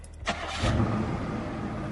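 A car engine cranks and catches at night, with a brief starter whir followed by the engine settling into a low, fairly quiet idle.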